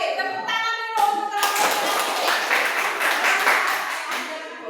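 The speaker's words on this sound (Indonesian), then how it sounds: "Tepuk tangan dulu untuk" Classroom applause after a group presentation, starting as scattered claps among voices and swelling into a full, lively round of clapping from many hands.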